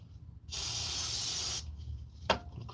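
Spray cleaner is blasted onto the intake of a 2015 Ford F-150 during throttle body work, one loud continuous hiss lasting about a second, followed by a short faint spritz.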